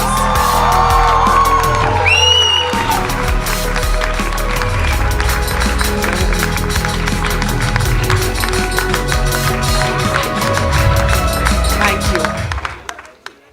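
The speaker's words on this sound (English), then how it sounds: "I want to hear the hall burst with applause." A packed hall bursts into sustained clapping with whoops and cheers, loud and rhythmic at times, running over a dozen seconds before cutting off, with shouting voices mixed in.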